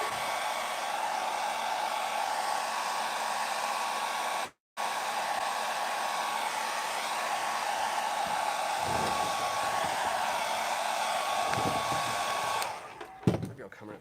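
A heat gun blows hot air onto vinyl wrap on a Nissan Patrol Y62 center console, a steady close-up roar that cuts out for a moment, resumes, then stops near the end.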